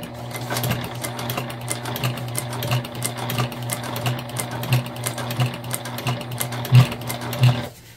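A sewing machine runs steadily while stitching a beginner-friendly Dayna Pack bag, a continuous mechanical hum with a regular pulsing beat, fairly quiet and close, with no talk.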